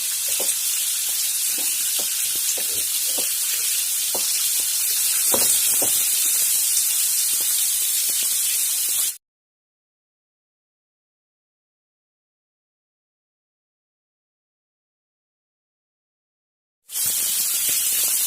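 Fish pieces sizzle and crackle in hot oil in a pan as fish masala cooks, a steady close hiss with small pops for about nine seconds, then silence, then the frying resumes briefly.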